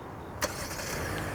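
The engine of a 2020 Hyundai Sonata DN8 starts with a sharp crank burst and settles straight into a smooth, close, steady idle hum.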